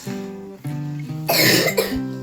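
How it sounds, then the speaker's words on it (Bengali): A child coughs indoors in a short, harsh burst of a few close coughs, following a moment of voiced sound just before. "দেখছেন কেমন কাশি হয়েছে"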